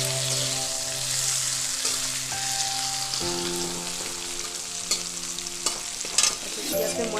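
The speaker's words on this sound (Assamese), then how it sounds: "এতিয়া মই অলপ ইয়াতে আদা পেষ্ট দিছোঁ" Ginger paste sizzles as it goes into potatoes frying in a pan, with a constant hiss, intermittent spatula scrapes and a faint tonal hum underneath; no talking.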